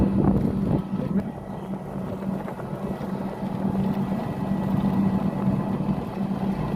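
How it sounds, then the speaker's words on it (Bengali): A toto electric rickshaw on the move gives a steady low motor hum with rumbling road and wind noise throughout, and a voice talks briefly near the start. "আমি টোটো ড্রাইভারের দায়িত্ব নিয়ে নিয়েছি চালাচ্ছি টোটো"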